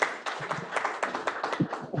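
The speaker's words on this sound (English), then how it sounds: "big clap for you" Clapping for a speaker at a small business mixer, a short burst of sparse, close hand claps from a few people in an indoor room.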